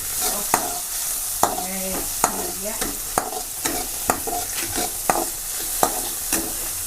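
Tomatoes fry in a pan with a low, continuous sizzle while a spatula taps and scrapes the bottom in a fairly regular rhythm, close and clear.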